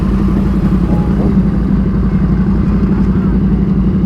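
Motorcycles at a bike night at a motorcycle dealership: a dense, loud, continuous rumble of many idling engines with clattering mechanical texture, steady throughout at close range.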